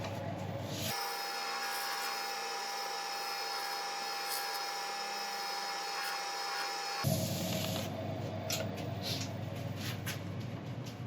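Northern Grit abrasive paste is rubbed into a piece of turned wood on a running lathe, giving a steady, even hiss of friction over a constant motor hum that changes character partway through.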